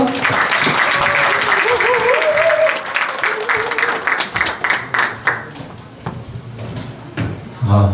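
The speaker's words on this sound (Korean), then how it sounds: "큰 박수로 환영해 주십시오" Audience applause greets a pastor stepping up to give a congratulatory speech at a book launch, loud dense clapping for the first few seconds, then thinning into scattered claps with a voice talking over it.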